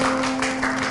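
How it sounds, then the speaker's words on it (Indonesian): A team claps together at the official opening of an escape room, a brief dense burst of steady applause over a faint steady hum. "Tepuk tangan dulu."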